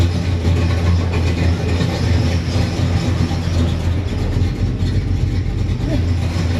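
A car engine idles after its idle speed was raised by about half a turn, from roughly 580 to 680 rpm, in a repair shop, giving a loud, steady low rumble that holds throughout.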